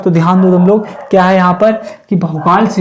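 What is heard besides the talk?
No everyday noises stand out.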